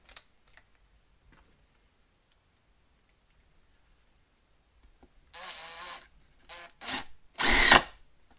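A Makita impact driver drives a 3-inch screw: after near silence, short bursts of whirring and rattling hammering build to a loud final burst, close up.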